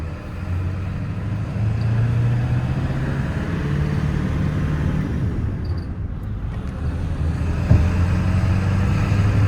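A 1997 Ford F250 HD 4x4 pickup with a 7.3L diesel and five-speed manual gearbox drives along a road, its engine giving a steady, loud low rumble throughout, with a brief bump near the end.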